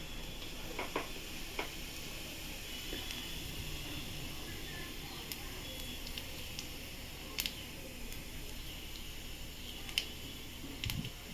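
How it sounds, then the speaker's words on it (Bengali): Cumin seeds and dried red chillies sizzle in about two spoons of hot oil in a kadai, a steady close crackle with occasional sharp pops and ticks and no talking. "এখানে গোটা জিরে আর শুকনো লঙ্কা ফোড়ন দিয়েছে"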